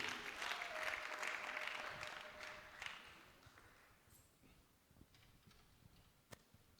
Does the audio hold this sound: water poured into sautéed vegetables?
no